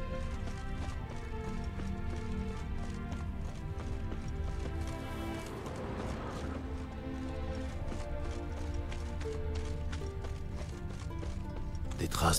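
Horse hooves clip-clop steadily in The Witcher 3, a regular rhythmic run of hoof beats under game music and ambience, with a brief swell in the middle and a sharp hit at the end.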